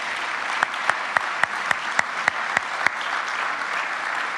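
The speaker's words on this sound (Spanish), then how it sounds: "con un aplauso los recibimos" Church audience applauding to welcome a couple, steady dense clapping throughout at moderate level, with a series of regular sharp claps standing out over the crowd.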